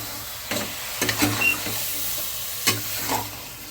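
Mutton pieces, a kilo of them, sizzle in a pan with fried ginger-garlic paste while a spoon scrapes and stirs through them in a few distinct bursts over a steady background frying hiss.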